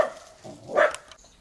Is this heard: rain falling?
no